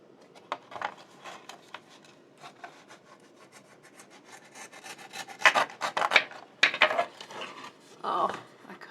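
Cardboard being sawed with a blade close to the fold of a box in a craft storage project, giving irregular rasping strokes that grow louder and denser in the second half, close and with no talk.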